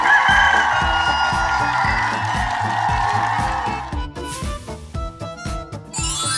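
Kickin' Chicken from the video game Poppy Playtime clucking and squawking over a bouncy rhythmic music track, the bird calls loud and busy at first and then giving way to the beat.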